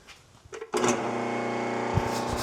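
A vintage Buffalo No.18 drill press starts up after a pulley repair, the motor coming on abruptly with a loud, steady, even whir and a smooth tonal hum, running without rattle.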